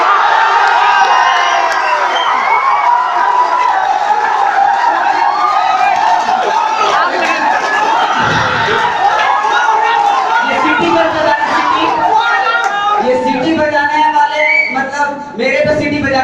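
An audience at a live shayari comedy show keeps up loud, continuous cheering and shouting, a thick crowd roar with voices mixed in throughout.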